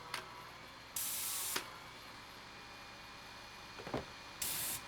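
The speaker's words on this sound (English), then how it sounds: "It's an airless sprayer. What that means is it uses pressure to push paint through the line in order to spray out the tip." An airless paint sprayer shoots trim paint in three short bursts, each a sharp, bright hiss lasting about half a second, separated by a quieter background with faint handling noises.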